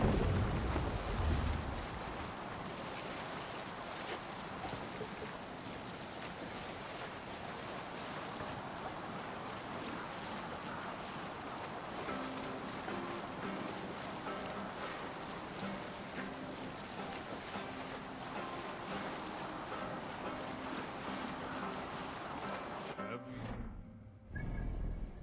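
Wooden longship sailing open sea in Assassin's Creed Valhalla, a steady broad wash of waves and water rushing against the hull, continuous and fairly loud throughout, fading abruptly near the end.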